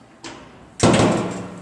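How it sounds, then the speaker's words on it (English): A machine enclosure door in a workshop is pulled shut, a soft initial slide followed by a firm, close slam that rings on briefly; no one speaks. "go ahead and close the door"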